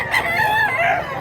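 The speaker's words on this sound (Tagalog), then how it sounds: "Wapo mga manok." A rooster crows once, close and loud, one long drawn-out call among chickens at a poultry market in Mantalungon, Barili, Cebu.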